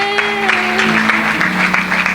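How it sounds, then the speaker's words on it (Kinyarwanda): A church congregation claps in steady rhythmic bursts for Jesus, loud and close, under a sustained sung or held musical tone. "Tukomere Yesu amashyi menshi"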